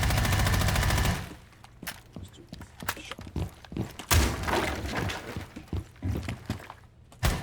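Bursts of gunfire rattle through a wall in the tactical shooter game Rainbow Six Siege, a loud opening volley followed by scattered sharp shots and thuds, moderately close and mostly alone.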